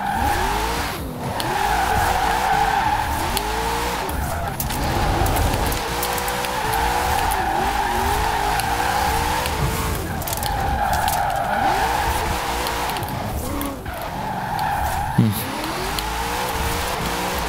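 A BMW E60 drifting in snowy winter conditions in Forza Horizon 4, with loud, continuous tire squeal and skidding over a steady engine drone. Repeated sweeping squeals rise and fall as the car slides through bends.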